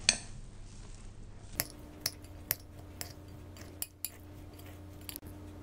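A spoon clinks and scrapes against a bowl while a New Year salad is stirred with salt and pepper, a series of sharp, evenly spaced taps over a quiet, soft mixing background.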